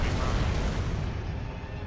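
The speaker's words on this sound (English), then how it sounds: "Watch out, mortars, man!" Mortar shells bursting in Gears of War 3 fill the space with a dense, loud, continuous roar of blasts and rumble, close and overwhelming, with no clear gaps between impacts.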